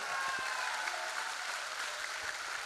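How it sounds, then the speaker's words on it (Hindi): An audience applauds during a Hindi motivational talk on leadership, a dense, steady wash of many hands clapping that holds evenly at moderate loudness throughout, with no voices over it. "हम चाहेंगे एक जोरदार तालियां होना चाहिए"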